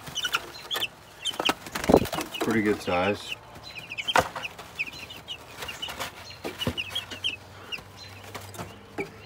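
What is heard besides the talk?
chickens clucking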